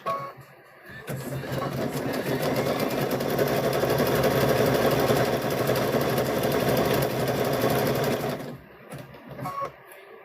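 A sewing machine stitches across thick rope for a rope wall hanging, a loud, close, continuous motor drone with rapid needle chatter that starts after a second, runs about seven seconds and stops, followed by a short burst.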